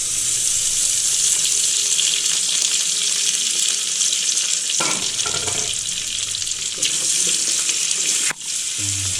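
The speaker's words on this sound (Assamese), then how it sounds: "ধুনীয়া ফ্ৰাই হৈছে" Chicken from a local bird sizzles and fries steadily in a pan, a loud continuous hiss that dips briefly partway through as it is stirred, with a short clatter near the end.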